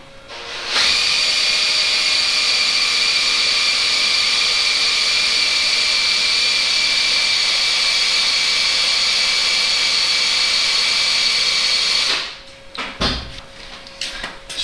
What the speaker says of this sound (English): So I will pump, and there will be now oil coming out of the tube.